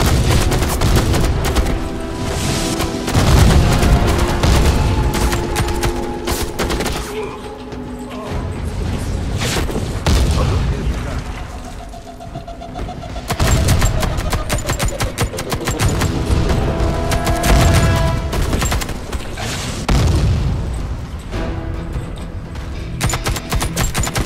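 Sustained automatic gunfire from the online shooter Warface in an assassination mode match, dense rapid bursts and explosive booms filling nearly the whole stretch with only brief lulls.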